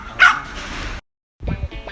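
A dog barks sharply a couple of times at close range, then after a brief silence gives a few more shorter, softer barks and yips, with no talking over it.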